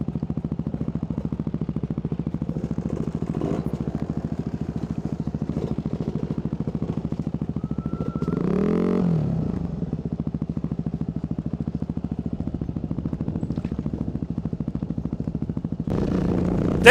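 Dirt motorcycles riding a trail loop, with a steady, loud engine drone and rattling clatter throughout, pitch shifting briefly midway as the bike works the terrain.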